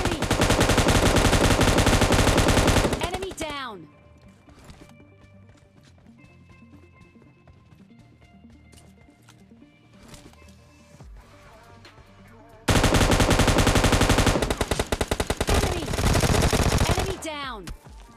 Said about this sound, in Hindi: मैंने इसको M249 की शायद से 50 गोलियां मारी होगी